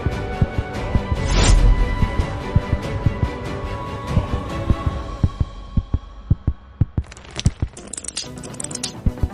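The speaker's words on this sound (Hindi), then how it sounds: "मेरी धड़कन तेज क्यों हो" Rapid heartbeat sound effect, a steady run of loud low thumping pulses with a brief swelling rush early on and quicker beats toward the end, no talk over it.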